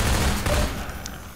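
Sniper rifle fire in the video game Half-Life 2: a loud, booming burst of gunfire at the start that rumbles and fades over about a second, with no other sounds.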